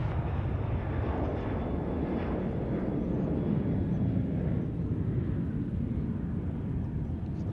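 Broad steady jet roar from an airliner landing on runway 34 right at Sydney Airport, a sustained low rumble holding at even loudness for the whole stretch with no voices over it.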